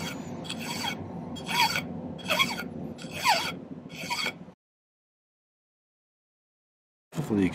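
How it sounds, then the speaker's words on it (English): Silver wire being filed to a point while clamped in a miter vise jig, five rhythmic rasping strokes, close and fairly loud, followed by a long silence and a final burst of filing. "file that down to a point while holding it in my miter vise jig"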